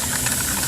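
A steam engine hisses steadily as it begins steaming, with a continuous, fairly loud rushing hiss and a faint mechanical knock underneath, no voices present.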